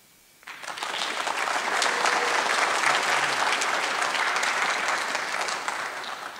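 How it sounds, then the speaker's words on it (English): Audience at a high school choir spring concert bursts into sustained applause after a brief quiet start, a steady, dense wash of clapping filling the hall for several seconds. "give another round of applause for James Nelson."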